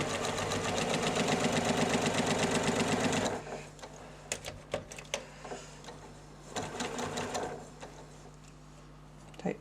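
A sewing machine stitches a row seam on a quilt, running in a fast, loud, even rhythmic chatter for about three seconds, then falling to scattered clicks, fabric handling and short bursts of movement.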